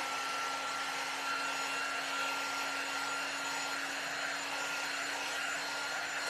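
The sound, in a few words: quick drying heat tool blowing on chalk paste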